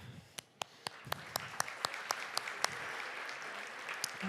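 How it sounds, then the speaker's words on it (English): Sparse applause at a chamber of commerce anniversary gala honouring volunteers, a few distinct, sharp claps ringing out over a soft background of more scattered clapping, fading near the end. "Another round of applause for those amazing volunteers."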